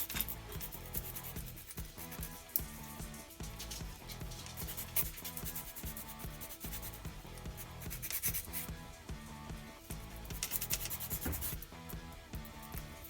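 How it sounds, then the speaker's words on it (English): A sanding stick rasps across the tracks of a model E-50 Jagdtiger tank in a steady, fairly quiet run of scratchy strokes lasting the whole stretch, with no talking. "We get a decent sanding stick."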